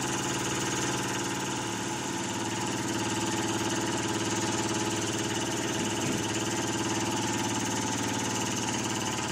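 A small Empire B31 engine runs steadily with its throttle opened wide, a continuous close, even drone with mechanical vibration and no change in pace across the whole stretch.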